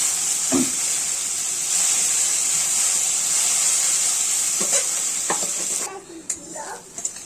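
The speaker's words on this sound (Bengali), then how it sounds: "পেঁয়াজটাও এর সঙ্গে ভালো করে ভেজে নেবো" Onions sizzle and fry steadily in a pan of hot oil for most of the clip, with a few scraping stirs, before the sizzle drops away near the end.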